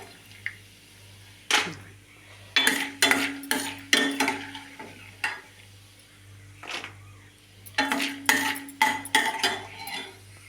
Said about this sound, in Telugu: అదిగండి శనగపప్పు కూడా వేగుతుందండి వేపుడు పప్పు